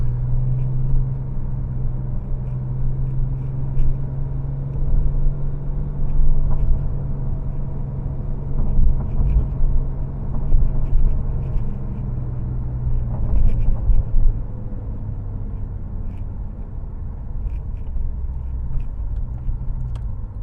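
A Porsche 911 Turbo driving, heard as a steady low engine rumble and road drone from inside or near the car, continuous and fairly loud without clear revving changes.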